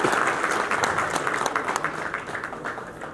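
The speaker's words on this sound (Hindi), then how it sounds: "ताली बजा दीजिए सर आपको।" Audience clapping steadily at an outdoor agricultural fair in Shamgarh, with dense, sustained applause from a crowd that holds fairly even before tapering slightly toward the end.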